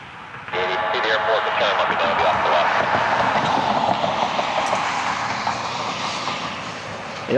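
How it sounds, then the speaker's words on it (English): A Delta Boeing 737-800 jet airliner roars past near Cleveland Hopkins airport, a loud broadband engine rumble that swells in after a quiet start and holds steady. "Delta Flight 880 should be turning over downtown soon. 737, 800, 3 minutes out from Atlanta."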